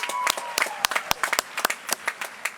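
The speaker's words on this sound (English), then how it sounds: "another reason to applaud" Scattered audience clapping at the Brown University 2022 convocation, a few distinct, close hand claps popping irregularly rather than a full wash, briefly under a faint voice.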